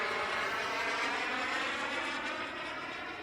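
A BVM T33 model jet aircraft on its maiden flight gives off a steady, loud engine roar that fades slightly as it passes, with no voices.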